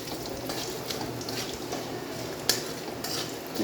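A utensil stirs whole cumin, bay leaf and dried chili in hot oil left from frying pointed gourd, a soft steady sizzle with light scraping and one small clink, close and fairly quiet.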